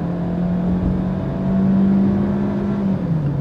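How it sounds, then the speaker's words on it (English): A 2022 Maruti Suzuki XL6 with a 6-speed automatic accelerates at full throttle in D mode, its engine droning steadily and loud from inside the cabin, pitch rising and then dropping near the end as a smooth gear shift happens. "So right now, I am in standard D mode and full pedal to the metal."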